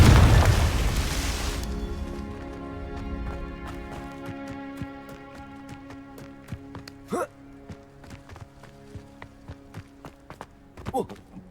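Confringo blasting curse in the Hogwarts Legacy video game, a loud explosive burst at the start that trails off, followed by scattered sharp impacts and clinking hits during combat.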